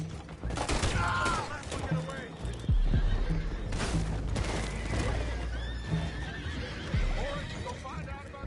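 Horses in Red Dead Redemption 2 neigh and whinny repeatedly, close and loud, with hoof clip-clop, bursts of gunfire and characters talking throughout.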